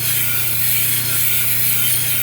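Gray shell being ground on a 320 grit polishing wheel, a steady loud whirring hum with a constant low drone and dense rough hiss running without pause, no talk.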